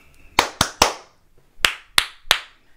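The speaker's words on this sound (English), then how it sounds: "Can you both give me three claps?" Sharp, close hand claps on a podcast set, six in all, falling in two quick groups of three with a short pause between the groups.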